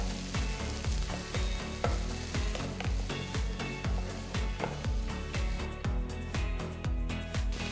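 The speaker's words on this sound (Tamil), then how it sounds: "2 மீடியம் சைஸ் தக்காளி நறுக்கி போட்டு 5 நிமிஷத்துக்கு மீடியம் ஃப்ளேம்ல வதக்குங்க" Loud, steady sizzling of chopped tomatoes sautéing in a pan over medium flame, with rhythmic stirring scrapes repeating about twice a second; no voices.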